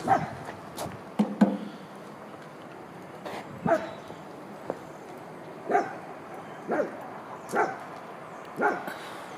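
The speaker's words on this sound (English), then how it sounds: "Apologize for the dog with the sore throat barking in the background" A dog with a sore throat barks in the background near a 1966 Ford F250 4x4 pickup truck, giving about eight hoarse, evenly spaced barks at moderate distance with no talking.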